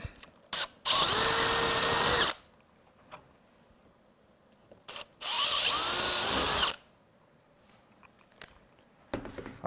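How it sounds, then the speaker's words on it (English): Two loud bursts of a power drill whining as it bores through polycarbonate with a 1/4 inch bit, each lasting about a second and a half, separated by quiet pauses and small clicks. "Switch it to the 1/4 inch drill bit."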